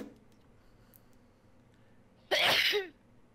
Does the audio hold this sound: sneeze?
yes